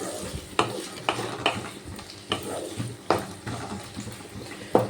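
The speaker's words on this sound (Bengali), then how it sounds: "এবার সব কিছু ভালোভাবে মিশিয়ে নেব" A spoon stirs pointed gourd curry with mustard oil and green chillies in a pan. Close scraping strokes come about once a second over a soft, steady sizzle.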